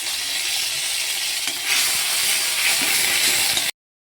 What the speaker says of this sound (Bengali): প্রায় সামান্য পরিমাণে তেল দিয়ে বেটে রাখা আদা জিরেটা দিয়ে দিই।